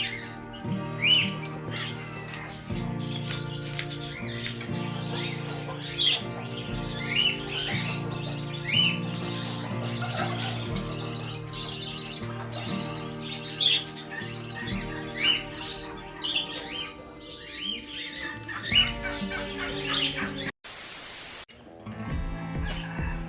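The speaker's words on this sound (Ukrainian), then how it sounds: "Папуги, які крадуть їдло в індиків." Parrots squawk and chirp repeatedly around turkeys on an eco-farm in Peru, over a steady, busy background, with calls scattered throughout and no talking.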